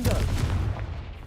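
Confringo spell blast in Hogwarts Legacy, a heavy booming explosion that hits at once and then rumbles away over about a second.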